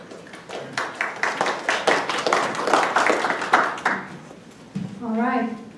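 A round of applause at a Pima County Board of Supervisors meeting: a small crowd claps steadily for about three and a half seconds, fading out before a voice begins speaking.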